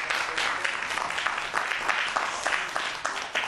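Audience applause for a lecturer after a Korean science talk: dense, steady clapping from a seated crowd, fairly close and continuous, with no talking.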